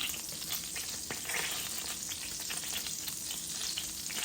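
Flour-coated fish frying in oil in a pan, a thick, even, close crackling sizzle that holds steady throughout with small pops, no talk.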